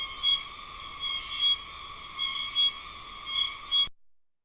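Cicadas drone in a summer outdoor soundscape, a dense, steady high-pitched buzz with gentle pulsing swells that holds throughout before stopping abruptly.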